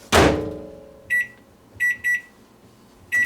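A microwave oven set on high for caramel popcorn gives a loud clunk of the door or button, then a run of sharp electronic beeps in short bursts, near and clear in a quiet room.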